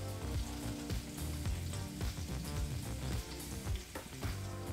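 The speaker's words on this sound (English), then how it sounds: "Listen to that sizzle of them short ribs." Short ribs sizzling loudly in a hot cast iron skillet, a dense continuous crackle and hiss, with faint background music running underneath.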